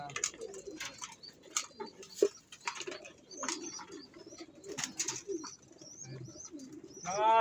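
Pigeons cooing softly and repeatedly at close range, with faint chirps and light rustling in a quiet outdoor setting.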